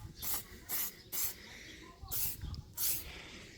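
Spray bursts of lacquer on a Toyota Yaris Mk1 car part being resprayed: five short hissing blasts in a steady rhythm, close and fairly loud, with quiet gaps between.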